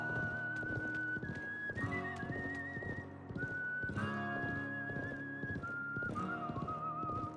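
Horse in the Wild West chapter of the video game Live A Live, clip-clopping steadily and close under a whistled game melody that carries on throughout.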